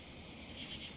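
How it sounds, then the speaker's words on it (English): Steady, faint buzzing of cicadas fills a damp swamp ambience in the video game Fallout 3, a continuous high drone with no voices. "Like, you hear the cicada in the background."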